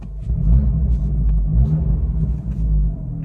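A turbocharged Abarth 595 engine rumbles deeply nearby, its low throb swelling and easing slightly without any speech.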